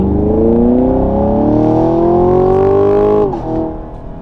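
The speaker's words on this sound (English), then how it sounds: "So that's what the stock exhaust sounds like." Ford Shelby GT500 on its stock exhaust, driven spiritedly: a loud, close, steady engine drone rising in pitch through one long pull before a shift and a brief dip, no talking.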